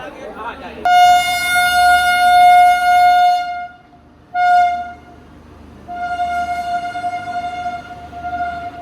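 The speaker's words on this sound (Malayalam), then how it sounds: "ഇതും ദാനാപൂർ പാട്നേന്ന് ജയനഗർ പോകുന്ന ഒരു ഇന്റർസിറ്റി എക്സ്പ്രസ് ആണ്." The Danapur–Jaynagar Intercity Express train passing, a loud sustained electric locomotive horn sounding in long blasts with a short toot between them, over a low rumble of the train.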